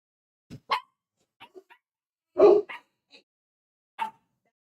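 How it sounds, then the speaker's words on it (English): A dog barks indoors during a live online tutorial, giving a handful of sharp, separate barks and yips spread irregularly over a few seconds, close and fairly loud with silence between them. "I don't even know what he's barking at"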